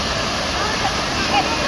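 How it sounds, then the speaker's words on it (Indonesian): A waterfall at Pamah View in Langkat, North Sumatra, roars as a steady, close wash of falling water with no break. "Ada air terjun"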